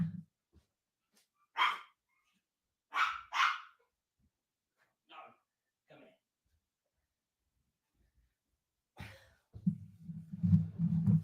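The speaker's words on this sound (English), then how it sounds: "Let me try and get over the noise of the dogs." Dogs bark indoors in a quiet home, several separate loud barks spaced over several seconds with silent gaps between them, followed by low rumbling noise at the end.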